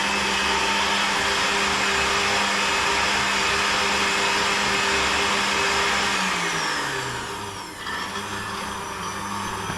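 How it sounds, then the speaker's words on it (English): A blender runs steadily on a strawberry protein shake, a loud continuous motor whir with a grinding edge throughout, its pitch dropping and dipping briefly near the end as the load shifts, with no talk. "really is a good blender"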